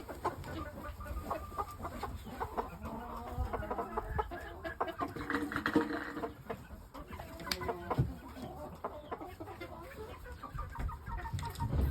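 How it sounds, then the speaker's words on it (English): A Pure O Shamo blue splash pullet clucks softly and irregularly at close range, with low, broken calls rising and falling amid faint background noise and no talking. "This is a blue splash pullet."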